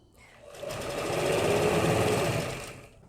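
Close, steady whirring of a sewing machine stitching a zipper into fabric, running for a few seconds as it swells up and then tapers off.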